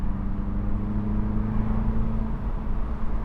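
2025 Mini Cooper S convertible engine under way, a steady whirring hum with a sustained tone that fades after a couple of seconds, blended with road noise and no talk.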